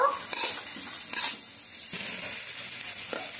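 Moya fish fried with salt, cumin and coriander powder being stirred in a pan for a curry, a steady close sizzle with quick spatula scrapes and clinks near the start.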